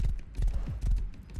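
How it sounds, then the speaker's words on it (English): A horse gallops in the video game Rust, a quick run of heavy, close hoofbeats in an uneven rhythm. "I'm gonna go on foot because horses are quite loud."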